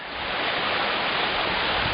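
Mountain stream at the Shypit waterfall in Zakarpattia in winter, heard from a wooden footbridge: a steady, loud broadband rush of flowing water, continuous and close, with no voices.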